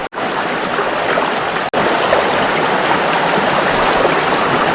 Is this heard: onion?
no